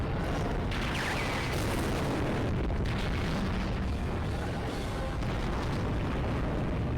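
Rocket explosions rumble in a video game, a dense and steady wall of booming blasts that runs without a break from start to end, with no voices over it.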